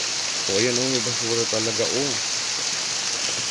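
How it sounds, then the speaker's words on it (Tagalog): Light rain falls with a steady, soft hiss across the whole stretch, while someone talks over it partway through. "Ayan, mahina na yung ulan guys."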